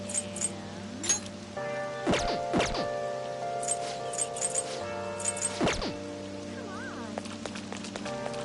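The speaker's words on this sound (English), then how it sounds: "Oh, this rain is so annoying." Steady rain falls on surfaces with scattered drips and patters, joined by sustained tonal hums and a few sharp knocks, continuous and fairly loud throughout.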